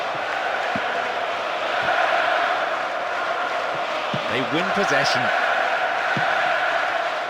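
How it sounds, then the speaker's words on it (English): Stadium crowd noise from the PES 2009 football video game, a steady loud roar of fans running throughout with a brief swell of cheering, under a commentator's voice. "the crowd at fever pitch, lending so much to the spectacle. Noise level high."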